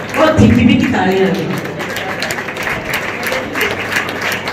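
Audience applause at a community women's organisation event in Jodhpur, a dense wash of clapping across the hall that swells briefly at the start and then carries on steadily, with a voice talking over it near the beginning.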